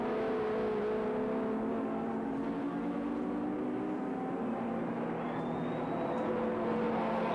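Touring cars, V8s among them, racing at Sandown in 1984, a steady blended engine drone with layered harmonic tones, distant and constant with no break, no voices.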